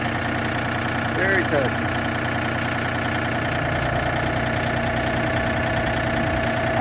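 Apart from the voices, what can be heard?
John Deere tractor engine idling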